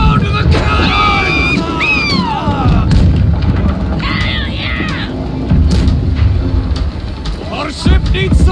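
Ship cannons fire in a naval battle in the game Blackwake, with loud booming blasts and rumbling engagement noise running throughout while players shout excitedly over the din.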